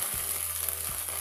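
Chopped onion with ginger-garlic paste frying in a pan for a Bengali eggplant dish, a steady, even sizzle with a brief stir in the middle.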